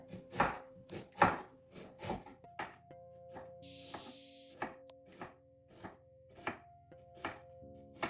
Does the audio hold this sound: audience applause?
no